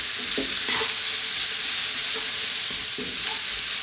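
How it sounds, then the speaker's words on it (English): Onions sauteing in a pan, a loud continuous sizzle with a few soft stirring knocks and scrapes, close and without talk. "sweat these onions down, saute them in there with all those lovely flavours"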